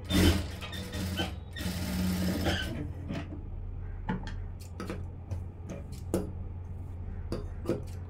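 A sewing machine stitches an aari work blouse, starting with a burst of rapid mechanical rattling, then falling to scattered clicks and ratcheting ticks, close and fairly quiet, with brief talk underneath.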